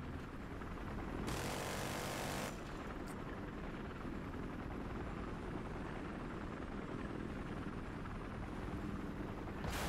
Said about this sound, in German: Mal wieder auf den räudigen Hubschrauber drauf hier.